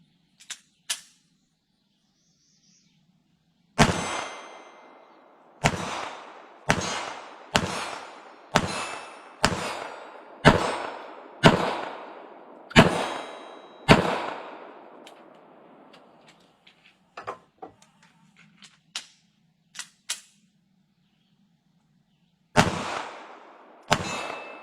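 S&W Bodyguard 2.0 pistol fired at a steel target from about 15 yards outdoors: a string of about a dozen sharp, evenly spaced shots with ringing decay, then scattered faint pings and two more shots after a pause.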